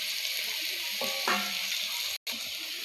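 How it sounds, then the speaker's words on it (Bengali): Vegetables frying in a pan after ginger paste is added give off a steady soft hiss and sizzle, with a brief clink of a utensil partway through and a short cut in the sound near the end. "খুব ভালো করে আমরা এগুলোকে ভেজিটেবিলগুলো ফ্রাই করে নিয়েছি।"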